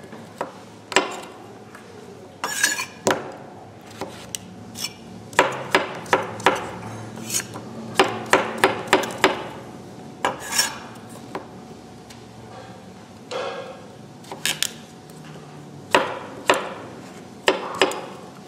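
A knife chopping vegetables into bite-sized pieces for a winter soup on a cutting board, irregular close knocks and short bursts of cuts against the board, sometimes in quick runs, no talking.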